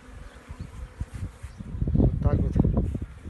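Honeybees buzz steadily around a hive during their spring cleansing flight after wintering outdoors, with the hum swelling louder and closer over the final seconds.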